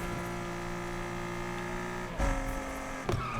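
A steady engine drone from a modified Nissan Skyline in the racing video game Need for Speed Unbound hums throughout with layered tonal harmonics, broken by two brief thumping bumps near the end; no talking.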